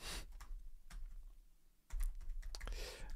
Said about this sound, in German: Eine Tastatur.